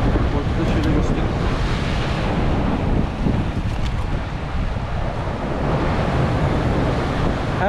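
Stormy sea waves crash and surge during a jig-fishing outing, a loud, continuous roar of surf heavily mixed with gusting wind buffeting the microphone, with no break across the whole stretch.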